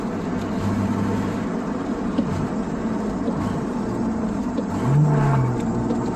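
A Mustang V6 with a 5-speed manual accelerates hard through first and second gear, a steady engine roar with a whirring drivetrain and a brief rising rev near the end, heard from inside the car.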